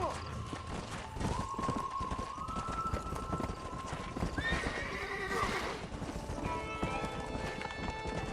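Horses in the Red Dead Redemption video game whinny loudly several times over steady clip-clop hoofbeats of galloping, close up, with a few brief voices in the background.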